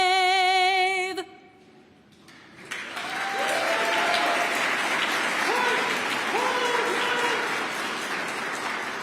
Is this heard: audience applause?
yes